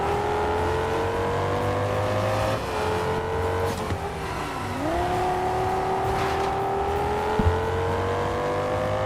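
Lamborghini Aventador engine in the video game TDU Solar Crown, a loud close steady engine drone that dips briefly in pitch mid-way then rises again, with tire and road noise beneath and no talk.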